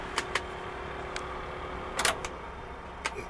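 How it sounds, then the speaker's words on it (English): A steady whirring heater blower motor hum fills the interior of a 1965 Mustang GT350R replica, with a few faint clicks and taps scattered over it. "You can hear the blower motor on it."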